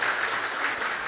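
A church congregation claps in continuous, fairly soft applause that blends into a steady wash of hand sounds across the hall.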